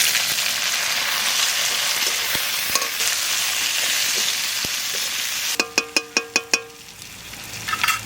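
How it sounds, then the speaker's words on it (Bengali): Onions frying in a pan for a pabda fish mustard-poppy seed curry give a loud, steady sizzle, then a quick run of about six sharp metallic clanks and scrapes as tomatoes go in and get stirred. "পেঁয়াজটা ভাজা ভাজা হয়ে গেছে, এবার টমেটোটা দিয়ে দিই।"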